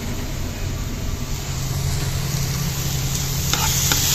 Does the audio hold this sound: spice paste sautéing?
yes